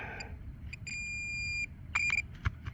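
A metal detector gives electronic beeps over a buried target: a short chirp, a longer steady tone, then a quick cluster of beeps, all fairly faint against a quiet outdoor background.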